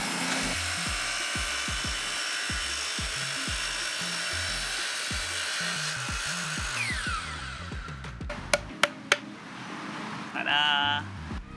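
A miter saw whines up and cuts through wood for a woodworking build, a steady loud motor with rhythmic thumps underneath, then spinning down, followed by a few sharp knocks and a short squeak near the end.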